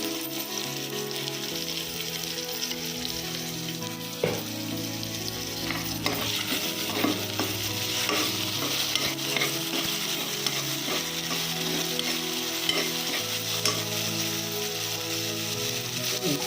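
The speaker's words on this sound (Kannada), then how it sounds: "ಸ್ವಲ್ಪ ಶುಂಠಿ ಬೆಳ್ಳುಳ್ಳಿ ಪೇಸ್ಟ್ ಹಾಕ್ತೀನಿ" Ginger garlic paste fries with a steady loud sizzle in a pan for a pea curry, stirred with repeated scraping clatters throughout.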